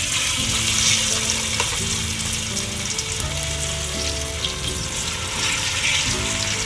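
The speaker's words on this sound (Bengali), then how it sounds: "এবার এই দানা বাটাটাকে ভালো করে তেলের সঙ্গে আমি ভেজে নেব।" Ground jackfruit seed paste fries in oil over a medium gas flame, a loud, close, continuous sizzle with bits of stirring scrape and no voices.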